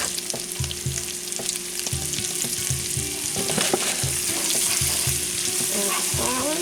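Sausage and melting butter frying in a pan, a steady close sizzle and crackle with intermittent scraping stir sounds and a faint tonal hum underneath.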